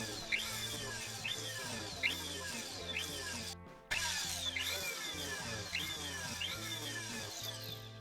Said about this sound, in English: make a channel between the cutoff points where we added the wire in the centre using a diamond burr